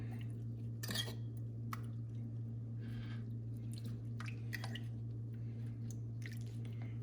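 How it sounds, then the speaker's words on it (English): Pasta being mixed and flipped in a pan, wet squishing and soft metallic scrapes in irregular bursts over a steady low hum, close and fairly quiet. "Just want to mix it around, flip it around."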